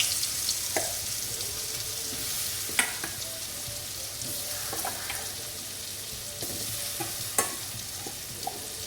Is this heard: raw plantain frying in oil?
yes